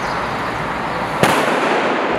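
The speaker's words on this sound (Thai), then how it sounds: "โรงสีบางแห่งอาจจะใช้วิธีการไล่นกพิราบด้วยการจุดประทัดไล่ครับ" A firecracker set off at a rice mill to scare pigeons away pops once as a sharp, fairly close crack over a steady background hiss of wind or machinery.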